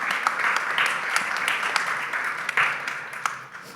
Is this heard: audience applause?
yes